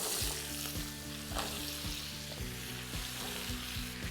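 Radish with slit green chillies sizzles in a hot pan over high heat, a steady close frying hiss broken by regular rhythmic stirring scrapes, with no voices.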